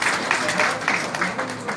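Wedding guests clap their hands at a Christian ceremony, a dense, fairly loud patter of applause with rhythmic swells that holds steady throughout.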